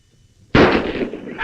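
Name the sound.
old revolver gunshots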